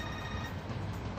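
A phone ringing inside a car fills the moment with a continuous electronic ring, steady and fairly loud over the car's low interior rumble, with no talking.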